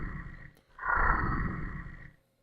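Deep bellowing growl of an imagined underwater creature, a short grunt followed by a longer swelling roar that fades out, fairly faint and alone.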